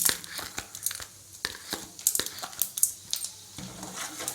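Mustard seeds, urad dal and chana dal pop and splutter in hot oil in a kadai, a dense run of sharp crackling bursts close by that continues steadily with no voices.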